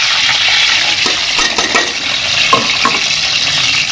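Sliced onions frying golden brown in hot oil with cinnamon in a pan at a village home kitchen, a loud continuous sizzle close by, with occasional scraping stirs of a spoon against the pan.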